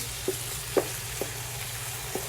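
Rice frying in a pan with ginger and mustard makes a faint, steady sizzle, broken by four light taps of stirring spaced about half a second apart.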